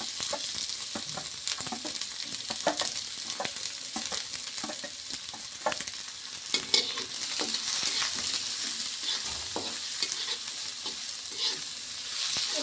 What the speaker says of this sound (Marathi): आता आपण तेल टाकून कांदा भाजून घेऊ।